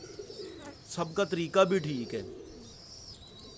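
Pigeons coo in a rhythmic, throaty series nearby while someone talks over them.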